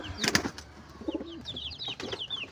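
Racing pigeons in a loft coo softly and give a few chirpy calls ahead of feeding, close by and fairly quiet, with a light stir of wings.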